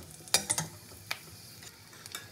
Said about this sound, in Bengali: প্রথমে আমি দেবো ফোড়নের শুকনো লঙ্কা একটা